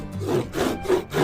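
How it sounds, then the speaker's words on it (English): A Corona RazorTOOTH hand saw cuts through a wooden stick in quick, even back-and-forth strokes, about four rasping passes in just over a second, close and clear with no talking. "and then I can start sawing"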